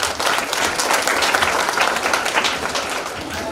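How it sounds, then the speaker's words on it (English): Steady applause from a primary school audience fills the whole stretch, dense and continuous clapping at a consistent loud level. "Can you please give those parents another round of applause?"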